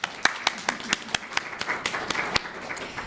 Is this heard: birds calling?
no